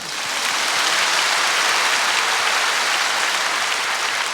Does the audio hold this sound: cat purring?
no